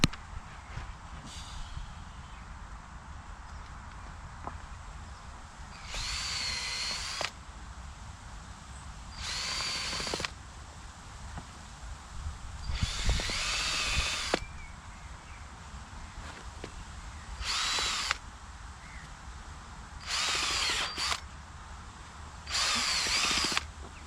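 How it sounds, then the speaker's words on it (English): A power drill boring holes into compacted garden soil while planting out corn, heard as several separate bursts of loud whining drilling spaced across the clip, with quieter outdoor background between them. "let's drill some holes"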